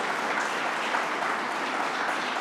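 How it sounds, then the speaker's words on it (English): An audience claps steadily at a New York State event honouring military service members, a dense, even round of applause filling the whole moment with no talk over it. "Let's give him another round of applause here."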